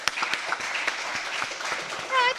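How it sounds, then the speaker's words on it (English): A small audience applauds after a one-minute startup pitch, scattered claps sounding under and alongside talking voices for a couple of seconds. "Let's give you a round of applause."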